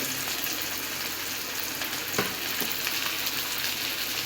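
Dense, continuous sizzling and crackling of sankara (red snapper) fish frying in hot coconut and refined oil, loud and close, with a faint thud partway through.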